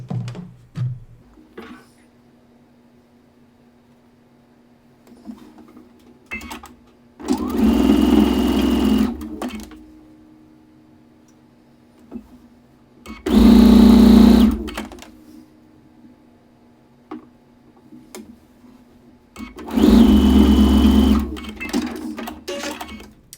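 Sewing machine stitching rows of a quilt together in three separate bursts of steady, fairly loud whirring. Short quiet pauses fall between the runs.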